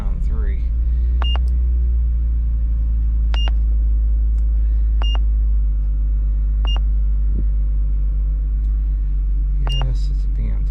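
A BMW Z3 engine idling rough with a deep continuous low rumble, close by, while a diagnostic scanner beeps in short pairs at intervals.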